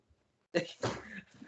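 A sudden sneeze bursts out during a casual wrestling podcast discussion, close and loud, followed immediately by voices talking.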